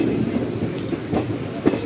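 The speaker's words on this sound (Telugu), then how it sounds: "మళ్ళీ అయితే ట్రైన్ అయితే స్టార్ట్ అయింది." Circar Express train pulling away again after a halt, a steady low rumble of the moving carriages with faint rhythmic clatter close by, no voices.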